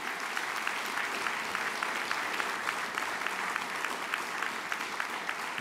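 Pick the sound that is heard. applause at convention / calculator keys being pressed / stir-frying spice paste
applause at convention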